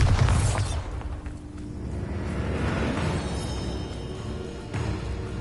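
A Bombarda spell detonates in Hogwarts Legacy, a loud booming burst up front that rolls into a long, rumbling decay with whooshing debris, then a second thump near the end.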